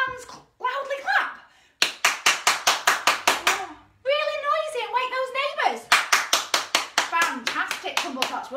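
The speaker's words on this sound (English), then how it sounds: "can we make our hands loudly clap?" Children at a Tumble Tots session clap their hands loudly in quick rhythmic bursts to a song, alternating with stretches of sung or spoken voice.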